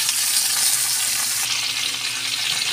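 Kangkong leaves stir-frying in a pan with tokwa and kalabasa, a loud, dense, continuous sizzle close up with light stirring, no voices.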